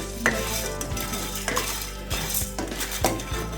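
Urad dal and dried red chillies dry-roast in a pan, with repeated scraping and metallic clinks of a spoon stirring against the pan over a light background hiss.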